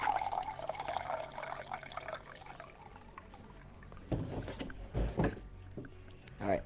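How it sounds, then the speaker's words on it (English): Water runs from a tap, a soft splashing stream in a room with faint background talk; after a few seconds louder knocks and handling thumps break in over the flow. "And just listen to the water."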